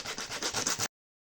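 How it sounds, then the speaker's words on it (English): A heel cap surface is scraped with a very rough abrasive in about five quick back-and-forth rubbing strokes, close and fairly soft, before stopping abruptly into silence. "I'm just going to go ahead and use this very rough one to roughen the surface so that it can properly adhere"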